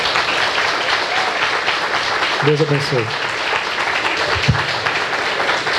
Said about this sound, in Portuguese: agradecessem a Deus a vida do seu pastor e da sua esposa, dos seus filhos, com uma salva de palmas